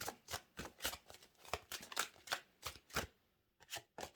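Large, slippery tarot cards are shuffled in a quick series of crisp riffling bursts, close and fairly quiet, with no talking.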